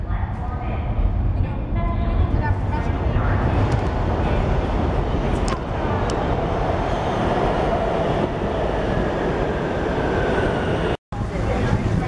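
A loud, continuous rumble of a New York subway train passing runs throughout, with rattling wheels and a brief cut near the end; no clear talk over it.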